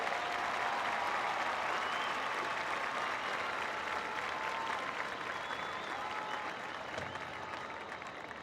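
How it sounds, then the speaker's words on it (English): A football stadium crowd applauds the national champion spirit squad at a South Dakota State versus Stephen F. Austin game, a distant, even wash of clapping and crowd noise that fades slightly toward the end. "Let's hear a big round of applause for our national champions."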